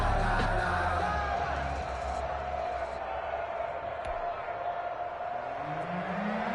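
A stadium crowd in an EA Sports NFL video game, Minnesota Vikings against Miami Dolphins, roars with a continuous broad wash of cheering and yelling, loud and steady throughout, with a commentator's voice heard over it.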